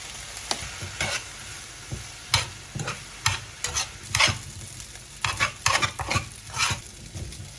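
Fish cake stir-fried for japchae in a home kitchen pan, a steady background sizzle broken by frequent sharp scrapes and clacks of the utensil against the pan in an irregular rhythm.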